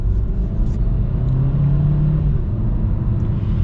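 A 2022 Hyundai Kona N Line with a dual-clutch transmission accelerates through a turn, its engine a steady, loud, close drone that holds and rises slightly, heard from inside the cabin.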